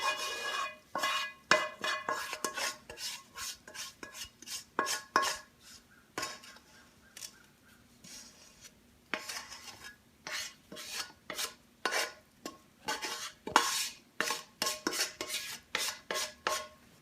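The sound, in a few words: spoon spreading gundpaak mixture in a tray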